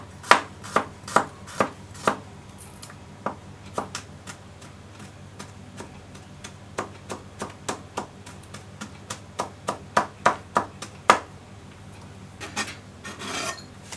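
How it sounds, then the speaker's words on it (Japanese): Garlic is finely minced with a knife on a cutting board: a long run of crisp, close knife taps, irregular at first, then quicker and more regular, with short pauses between bursts. "ニンニクを刻みます。 みじん切りですね。"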